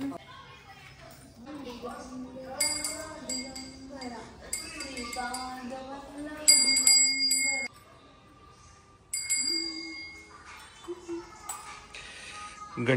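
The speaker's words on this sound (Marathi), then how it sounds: "घंटी अर्पण" A metal bell offered at a temple of Shri Gurudev Datta rings in a few bright, clustered strikes with lingering tones, sounding over voices chanting or singing.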